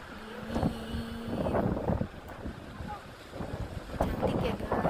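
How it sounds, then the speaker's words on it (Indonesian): Strong wind at a beach near a hill on Shimendong, Taipei, Taiwan, with big waves: loud gusty buffeting roars into the microphone over the rumble of surf, continuous throughout, with a voice talking under it. "ombaknya gede banget, anginnya juga gede"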